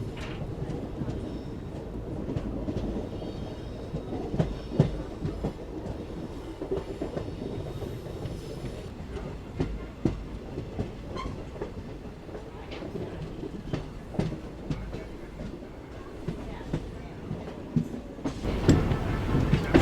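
A Coimbatore–Thoothukudi express train pulls into Pollachi Junction with a steady rumble, rhythmic wheel clicks and a few sharp clanks. Voices can be heard faintly in the background.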